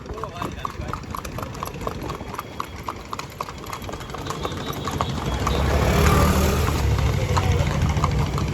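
A ridden mare's hooves clip-clopping in a steady, even rhythm on a hard surface, close and clear, while someone talks; a rising engine hum swells underneath in the second half.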